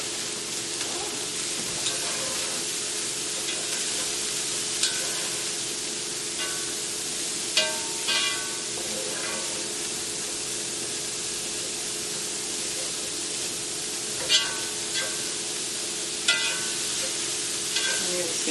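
Cauliflower fried rice sizzles loudly in a hot pan over high heat, a constant bright frying hiss broken by several sharp scrapes and taps of a spatula mixing it, close and without talk.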